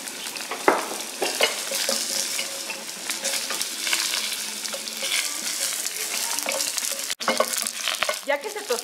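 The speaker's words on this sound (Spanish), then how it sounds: "Lo primero que vamos a hacer en un poquito de aceite es tostar la media cebolla y" Half an onion and garlic cloves toast in a little oil in a pan, giving a steady close sizzle with occasional stirring scrapes and a few light utensil clicks throughout.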